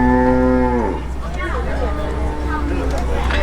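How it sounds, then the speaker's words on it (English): An Ankole cattle, a domestic cattle breed, gives a loud, drawn-out moo on a savanna-style safari ride, followed by lower bovine grumbles over a steady vehicle engine hum. "That animal that just vocalized there is an Ankole cattle"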